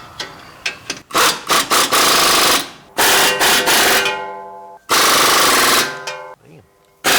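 Impact wrench hammering on the rear wheel bearing of a 2013 Ford Explorer, loud close rattling bursts of a second or two separated by brief pauses, with someone speaking between them.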